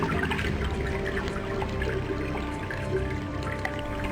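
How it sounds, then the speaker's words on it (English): Water pours steadily into a vessel, a continuous splashing, gurgling flow heard up close and alone for a few seconds. "Let's fill up our vessel with water."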